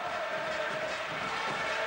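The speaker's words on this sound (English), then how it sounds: "The crowd really into it." Basketball crowd at a 2007 Euroleague playoff game between Barcelona and Unicaja Malaga, a steady dense roar of cheering voices filling the arena throughout, with no break.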